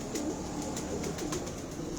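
Pigeons kept by a fancier make soft, rolling coos at a moderate distance, two gentle swells under a steady background hum, with a few faint higher chirps scattered through.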